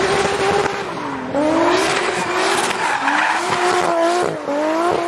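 A Toyota Supra's 2JZ engine revving hard, its pitch rising and falling through gear changes, loud and close with a raspy, roaring tone.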